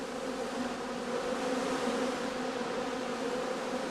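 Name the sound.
honeybees flying around skeps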